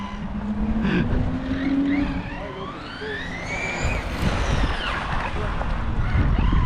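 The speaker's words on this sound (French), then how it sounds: "Il a freiné juste dans le virage en appui sur une roue." A race car brakes hard through a bend while loaded onto one wheel, with tyre squeal and a sweeping engine note rising and falling over steady loud engine noise and crowd or track ambience.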